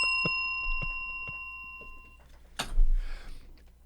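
A small bell rings several times in a quick, evenly spaced series of bright dings, close and clear, followed by a louder thump and muffled rustling.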